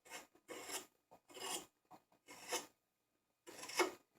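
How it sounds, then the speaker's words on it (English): A carving tool scraping across the grain inside the bowl of a Bradford pear wood spoon, in short close rasping strokes, about five passes separated by brief pauses, quiet and with no talk. "So we're just kind of scraping along here across the grain, I guess, across the bowl, kind of feeling the wood"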